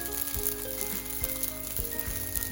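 Chakoli pitha batter fries in a pan over a high gas flame, giving a steady, close sizzle that stays even throughout with faint bubbling crackle.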